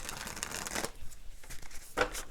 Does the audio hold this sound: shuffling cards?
yes